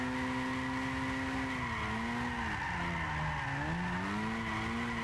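Tires squeal steadily as an RE Amemiya RX-7 drifts in Gran Turismo 6, with a sustained, wavering screech over the engine's drone that bends in pitch through the slide, alone and loud throughout.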